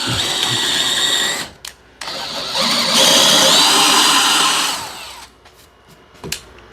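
A power drill bores clean holes through wood for a homemade wooden wine rack, whining loudly in two long runs with a brief pause between, then stopping and leaving a few light knocks.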